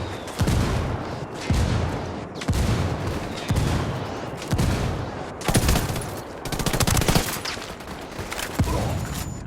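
Gunfire erupts in the Ghost Recon Wildlands shooter, loud repeated bursts of automatic weapons and heavy booming shots in rapid succession, dense and close throughout.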